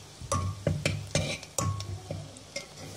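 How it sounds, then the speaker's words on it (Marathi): Ginger and garlic fry in butter with a soft sizzle, broken by several sharp spoon scrapes and taps against the pan, close and moderately loud, no talk. "हे आपल्याला 2 मिनिटं फक्त बटरमध्ये भाजून घ्यायचं आहे।"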